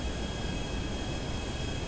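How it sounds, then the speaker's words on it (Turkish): Airplane flying in the online game GTA Online: a steady, loud broadband engine drone with a constant whine, unchanging across the short stretch and with no talk. "Ben şuraya indireceğim uçağı abi"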